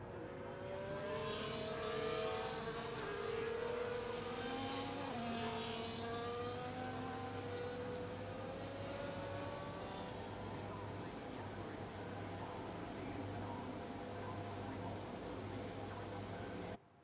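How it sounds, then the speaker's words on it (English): F1 24 video game race cars roll back toward the grid before the Abu Dhabi Grand Prix, their engines a steady, continuous whine with slowly gliding pitches that stays loud and close throughout. "As the cars come back towards the grid to line up for the start of the race"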